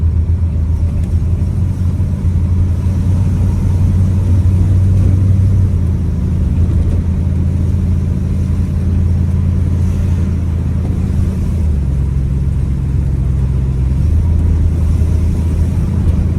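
A 1971 Ford Mustang coupe with a 302 V8 and automatic transmission drives along, its deep steady engine rumble holding low with gentle shifts in pitch as it cruises, heard from inside the car without talk.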